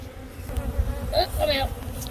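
Honeybees buzz around a hive during an inspection, a close, steady drone with individual bees whining past, a few nearer passes standing out briefly.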